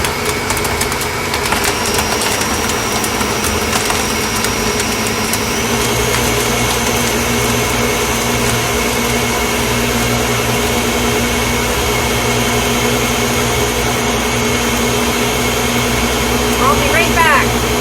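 A blender crushing ice for a smoothie runs on high with a loud, steady whirring drone that holds unbroken throughout.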